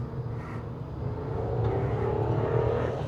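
Engine of a 2026 Tata Punch iTurbo, 120 PS, accelerating on an empty stretch in second gear, a steady low rumble that swells gradually, heard from inside the car.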